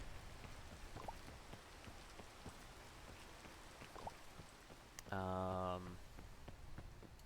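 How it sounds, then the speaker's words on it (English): Rain falling in the video game Peak: a constant light patter with scattered drop ticks. A brief loud tonal buzz cuts in near the end. "So we're just gonna wait out the rain."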